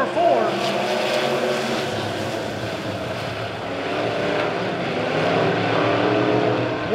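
Midwest Modified race cars roar into turns 3 and 4 at Springfield, a steady dense engine drone from several cars running side by side, with a commentator talking over it throughout.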